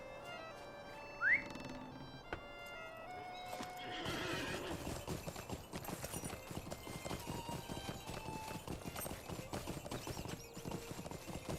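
Horse in the LOTRO fantasy video game, a single neigh followed by steady, rapid hoof clip-clops on a path, continuous and fairly close, with no voices over it.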